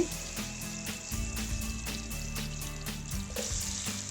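Garlic and chili fry in oil in a pot with a steady, soft sizzle. Faint clinks and scrapes recur at regular intervals throughout.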